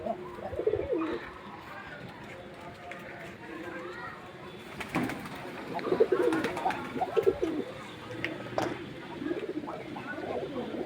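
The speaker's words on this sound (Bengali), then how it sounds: "কত সুন্দর সময় পার করছে কবুতরগুলো।" Pigeons cooing inside a pigeon house on a calm morning, a steady murmur of soft, repeated coos with scattered chirps and faint background voices.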